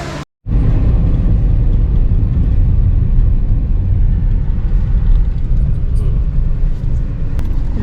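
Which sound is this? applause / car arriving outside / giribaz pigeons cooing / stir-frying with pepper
car arriving outside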